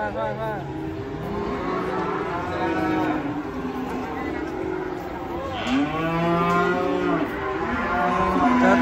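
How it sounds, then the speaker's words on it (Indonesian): Agitated cattle unloading from a truck at a market moo and bellow repeatedly in long, strained calls over a noisy outdoor background, with several animals overlapping and some passing traffic. "sapi ngamuk"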